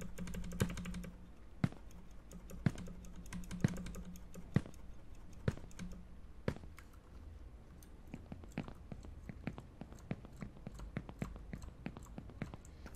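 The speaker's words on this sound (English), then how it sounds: "I've tried like everything on the keyboard." Computer keyboard keys pressed repeatedly during PC game play, with irregular, crisp clicks scattered across the whole stretch over a steady low background hum, some taps louder than others and coming in quicker bursts toward the end.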